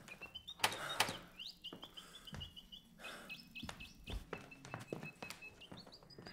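A game bird in Ad Infinitum, a First World War horror video game, gives repeated bright chirps and held, stepped tweets, mixed with scattered dull thunks and clicks over several seconds.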